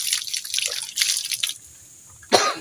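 Fresh spring water splashes in bursts as someone washes their face at a pilgrimage ablation spot, with dripping between scoops and one last louder splash near the end.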